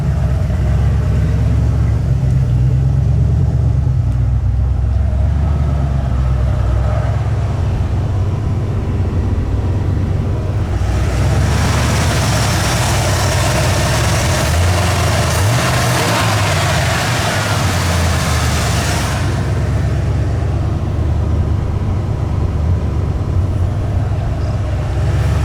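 A junkyard Bullnose Ford truck engine runs steadily after an EFI-to-carburetor swap, a loud, continuous low rumble with a rise in revs and brighter roar midway before settling back.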